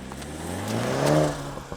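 A 2020 BMW Z4 sDrive30i convertible with a turbocharged four-cylinder engine pulls away, its engine note rising steadily in pitch under acceleration, close and moderately loud, easing off near the end.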